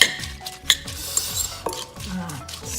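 A utensil stirs and scrapes through Khmer raw beef salad in a bowl, giving quick irregular clinks and wet squelching scrapes that are close and moderately loud.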